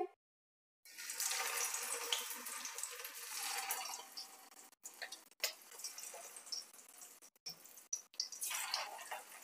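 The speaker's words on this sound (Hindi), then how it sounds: "अब हम कोफ्ते को फ्राई कर लेंगे।" Koftas made from banana flower shallow-fry in hot oil in a pan, giving a steady close sizzle with crackling and dripping bursts and a few short gaps.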